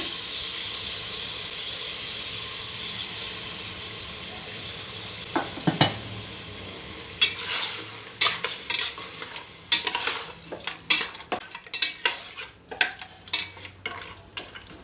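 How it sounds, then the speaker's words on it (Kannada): Mutton being stirred in a pot with salt, turmeric and yogurt: a soft background sizzle at first, then a run of irregular scraping and clinking stirring strokes, close and moderately loud, with no talking. "ಉಪ್ಪು ಅರಿಶಿನ ಮತ್ತು ಮೊಸರು ಹಾಕಿ ಇದನ್ನೆಲ್ಲ ಚೆನ್ನಾಗಿ ಮಿಕ್ಸ್ ಮಾಡಿದ್ದೀನಿ"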